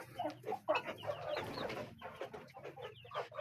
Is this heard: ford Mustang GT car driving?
no